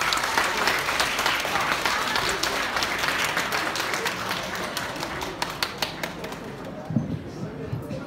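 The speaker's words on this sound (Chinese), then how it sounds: "感谢大家掌声鼓励" Theatre audience applauding crosstalk performers at Deyunshe's Tianqiao Theatre, a dense sustained wash of clapping that thins toward the end into a few scattered claps, with some voices mixed in.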